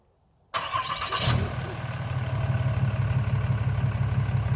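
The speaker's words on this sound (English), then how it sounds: "I'm gonna have them hit the remote, start it up." A 2015 Ram 2500 Cummins diesel 4x4 Bighorn pickup is started by remote: after a brief silence the engine catches with a loud crank and flare, then settles into a steady, close, low rumbling idle.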